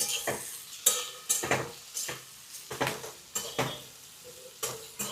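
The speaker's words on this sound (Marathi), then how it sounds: "दोन कांदे आहेत ते आपण व्यवस्थित भाजून घेतो" Two onions are sautéed in oil in a pan with split chillies, with a soft sizzle under repeated scraping strokes of a spatula stirring the pan, steady and close.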